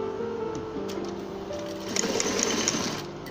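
A sewing machine runs steadily while stitching down an invisible zip, a continuous close whirring hum with no pauses and no talking.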